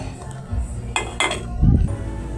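A metal lid settles onto a pot of fish soup with camote tops, giving a few short clinks and clatters spread over a couple of seconds, close by and fairly loud, no talk.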